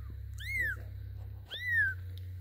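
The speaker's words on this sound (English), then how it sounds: "these are my kittens" Kittens meowing twice, each a thin rising-then-falling mew, fairly quiet over a steady low hum in an indoor room.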